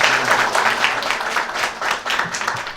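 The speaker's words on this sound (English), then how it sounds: "Let's give them a big round of applause as they finish their 3 questions" Audience applause at a school quiz event, a lively burst of clapping from a nearby crowd, loud and continuous with uneven pulses before dipping briefly.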